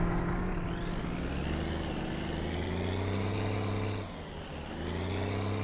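A car passes on a road in My Summer Car over a heavy, droning engine rumble that rises and shifts in pitch, then dips briefly near the end, with no talk heard.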